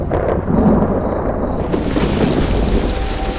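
Thunder rumbles loudly through steady heavy rain in a Tamil film scene, a deep continuous roll that swells and stays dense for the whole stretch, with no voices.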